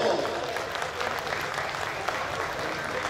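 An audience at a traditional folk music evening claps steadily to welcome string musicians, a dense, close burst of applause with talk mixed in.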